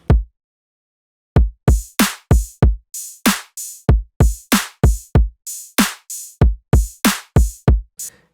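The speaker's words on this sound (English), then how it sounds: "So the drums sound like this." A halftime drum loop at 95 BPM plays on its own. A solid kick drum and two layered snares sharply punctuate a steady, sparse pattern after a brief opening hit and a pause.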